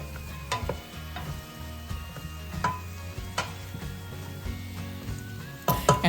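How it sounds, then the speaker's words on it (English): Irish potatoes sautéing in olive oil in a pot for a vegetable cheese soup: a soft, steady sizzle broken by scraping stirs and occasional clinks, ending with a louder clatter. "they get cooked faster when they're sauteed in the olive oil"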